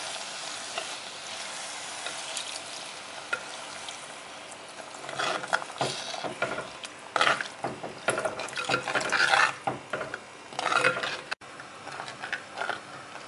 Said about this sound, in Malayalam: നമുക്കിനി ആവശ്യത്തിന് വെള്ളം കൂടെ ചേർക്കാം